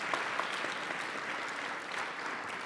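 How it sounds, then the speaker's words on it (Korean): A congregation at a Methodist seminary chapel service in Korea applauds in a dense, steady wash of many hands clapping, unbroken and without talk. "저희가 축하의 마음을 담아서 박수를 부탁드리겠습니다."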